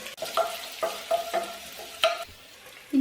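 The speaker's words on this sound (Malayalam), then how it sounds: "നന്നായിട്ട് വഴറ്റി കൊടുക്കുക" Spices sauté in a pan for Kerala-style fish molee, with a soft steady sizzle broken by repeated spatula scrapes and stirs close by, and no talking.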